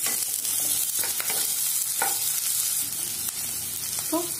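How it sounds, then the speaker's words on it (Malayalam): Chopped onions sauté in melted butter in a pan with a steady, dense sizzle, punctuated by a few soft scrapes and stirs. "ഇനി ഇതിലേക്ക് രണ്ട് സവാള ചെറുതായിട്ട് കട്ട് ചെയ്തത് ചേർത്ത് കൊടുക്കുക."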